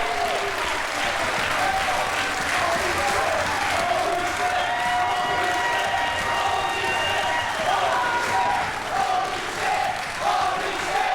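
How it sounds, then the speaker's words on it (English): A wrestling crowd at a women's match applauds and cheers loudly and continuously, with shouting voices blended into the sustained roar. "Crowd getting very vocal in their support for what we just saw from Cheerleader Melissa."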